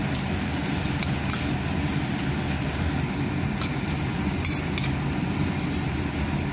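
Chopped onion and garlic sautéing in a pan for a home-cooked chicken mechado, giving a steady, moderate sizzle with light stirring clicks and no talking.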